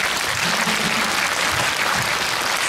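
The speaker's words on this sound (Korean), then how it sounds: "박수 한번 주실게요." Applause from a cinema audience at a live film talk event, a dense, even wash of clapping sustained throughout at moderate loudness.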